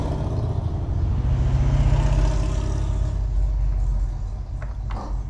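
Loud, steady low engine rumble of motorbikes passing outside on bike night, swelling and holding for several seconds before easing slightly, with no talk over it.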